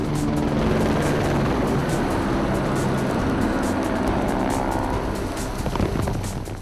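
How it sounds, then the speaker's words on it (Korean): A huge firefighting helicopter approaches over a burning mountain forest with a continuous loud roar and a rapid rotor chop that stays steady throughout. No voices are heard. "이때 헬기의 굉음이 가까워진다."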